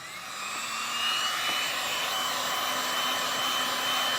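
A heat tool for torch paste, hotter than an ordinary hair dryer, blows a steady, loud rushing whir of air that builds up over the first second and then holds constant, with no talking.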